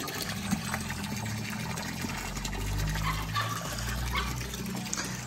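Tap water runs into a small dog pool with a soft, steady gush that swells a little midway, heard faintly from close by with no talking.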